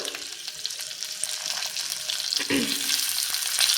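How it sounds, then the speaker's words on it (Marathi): Eggplants drop into hot oil tempered with cumin and asafoetida, a close, steady frying sizzle that swells louder as they settle and are stirred in the pan. "त्यामध्ये आता ही सगळी वांगी सोडून घेऊयात आपण"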